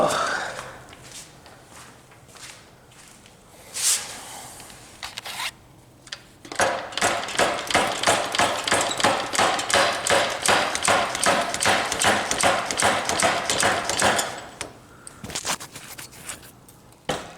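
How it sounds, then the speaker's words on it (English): A hammer beats on the stuck piston of a motorcycle engine in a rapid, steady run of sharp metallic blows lasting several seconds, preceded and followed by scattered handling clunks and a few isolated taps. "Should I just beat on it with a hammer?"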